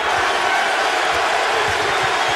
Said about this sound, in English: And the crowd on its feet here at the American Airlines Center.